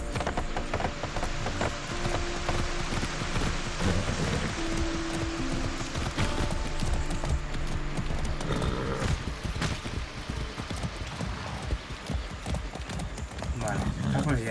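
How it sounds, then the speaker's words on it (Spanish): Horse hooves clip-clop at a steady gallop in Far Cry 6, a continuous rhythmic pounding with the occasional snort, running under someone talking in Spanish throughout. "al fin y al cabo es una skin de caballo"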